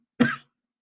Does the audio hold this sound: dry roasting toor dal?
no